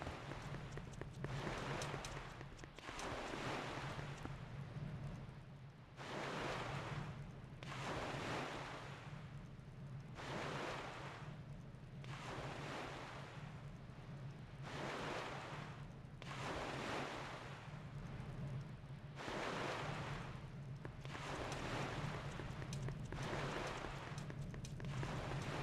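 Rolling ocean surf from The Legend of Zelda: The Wind Waker, a steady wash of waves surging and receding in repeated swells with a windy, hissing texture, continuous and fairly loud with no voices.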